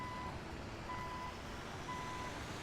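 Truck reversing alarm in the game Transport Tycoon, three evenly spaced steady beeps over a constant engine rumble, heard alone without talk.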